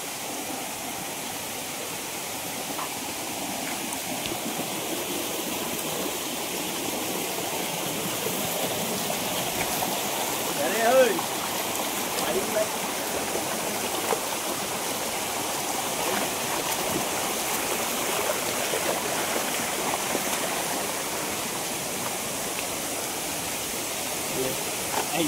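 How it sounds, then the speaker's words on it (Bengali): Waterfall at Burudi Dam in Ghatshila, Jharkhand, giving a steady broadband rush of falling water that holds an even level throughout, with a faint brief bump midway and no talk over it. "এখানে এসে ঝর্ণাটা দেখতে পেয়েছি, বেশ শান্তি হয়েছে।"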